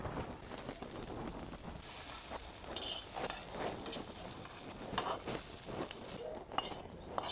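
Ivy gourd (tondli) sautés in oil in a pan, a quiet sizzle under intermittent clinks and scrapes of a utensil against cookware, with occasional sharper taps; no one speaks.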